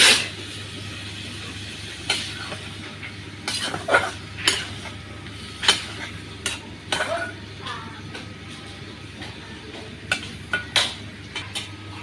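Vegetables and spices stirred and sautéed in a pan in a village kitchen, a utensil scraping and clinking against the pan in scattered sharp strokes over a faint steady hum, with no talk.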